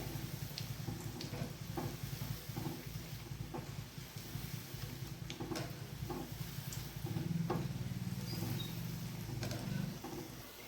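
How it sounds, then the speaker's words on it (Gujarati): Potato-free fasting fritters (farali bhajiya) bubble and crackle softly in hot oil over a low flame, a steady low sizzle with scattered pops and occasional stirring sounds. "ધીમા ગેસે આપણે આને તળી લઈશું આવી રીતે"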